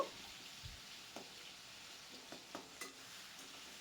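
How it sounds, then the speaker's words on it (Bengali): A spatula stirs tomatoes, potato and eggplant as they fry in a pan, giving a faint sizzle under a series of soft scraping taps spaced irregularly, heard close but quiet. "খুন্তি দিয়ে টমেটোগুলোকে আমি মিশিয়ে নেব"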